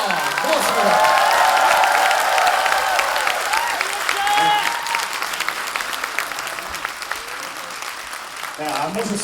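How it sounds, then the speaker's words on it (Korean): A large audience at a political talk concert claps in sustained, dense applause, loud and near, easing slightly toward the end. A voice speaks over the applause. "다시 한번 큰 박수 부탁드리겠습니다."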